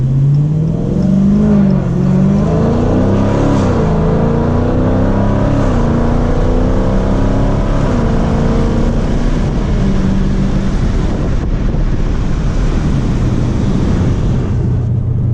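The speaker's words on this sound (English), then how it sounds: "it just shifted perfectly right there" A car engine revs loud and close from inside the cabin while driving, its pitch climbing and dropping through several smooth gear shifts over a constant road drone.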